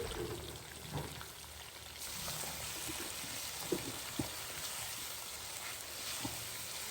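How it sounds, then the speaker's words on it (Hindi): Garlic and ginger paste frying in a pan gives off a quiet, steady sizzle with a few small pops and crackles scattered through it, with no voices. "ऐड कर देंगे 1 टेबल स्पून लहसुन और अदरक का पेस्ट"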